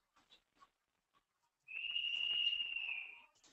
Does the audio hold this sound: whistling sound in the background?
yes